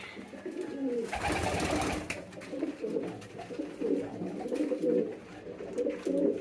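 King and Damascene pigeons coo in repeated low, throaty phrases at close range, with a brief burst of broadband rustle or flapping near the start and steady cooing continuing throughout.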